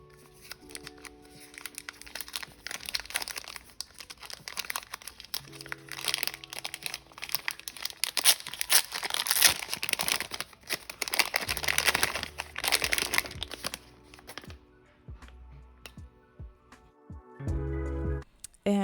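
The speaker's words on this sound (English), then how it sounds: "I wanted to leave all that crinkling in there for an ASMR moment." Crinkly plastic packaging being handled and torn open while unboxing Maniology nail stamping products, with dense rustling and crunching bursts that swell and fade throughout, and a few quieter handling noises near the end.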